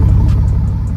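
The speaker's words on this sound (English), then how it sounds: "Oh yeah, listen to the exhaust." A Mercedes C32 AMG's exhaust rumbles loudly and steadily up close, a deep pulsing idle drone with no talking.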